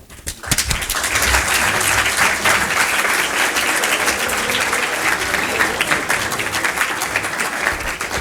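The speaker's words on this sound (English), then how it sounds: "Ladies and gentlemen, a huge round of applause." An audience at a university inauguration breaks into loud, sustained applause, starting abruptly and holding steady as dense clapping fills the room for about eight seconds.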